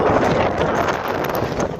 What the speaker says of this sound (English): when the wind gusts blow, they like just about blow you over